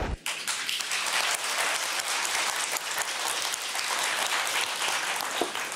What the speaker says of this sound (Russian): вы слышали аплодисменты ваших и наших коллег?